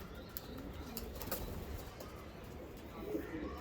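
A Blizzard King Kittel pigeon coos softly nearby. Low, faint coos come in a few short bursts over quiet background noise.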